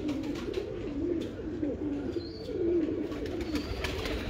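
Male pigeons coo in a steady, overlapping murmur close by, the low throaty calls rising and falling throughout with no one speaking.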